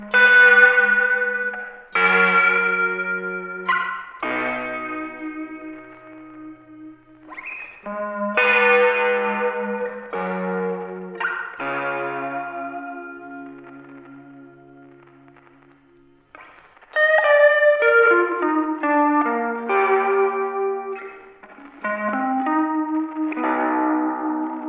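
Melodic guitar-like notes and chords pass through a Hologram Chroma Console set to a vinyl lo-fi effect with reverb, each phrase ringing out with warm, echoing sustain in a slow, steady sequence without talk.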